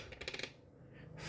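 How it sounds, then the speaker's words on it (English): Dice rolled and tumbling on a hard surface, a brief faint rattle of small clicks lasting under a second, heard alone in a quiet room. "Let's roll some dice."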